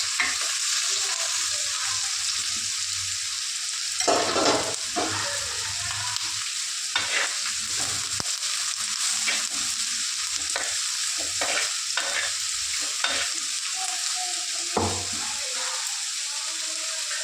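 Onion, curry leaves and green chilli frying in oil with mustard seeds, a constant close sizzle broken by repeated scraping stirs and occasional clinks from the pan over a long stretch, no speech.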